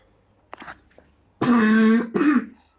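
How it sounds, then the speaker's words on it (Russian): A person coughs and clears their throat, a couple of brief, light throat noises followed by a loud, rasping, voiced clearing burst and a second shorter one, close to the mic. "Че, я так кашляю, да?"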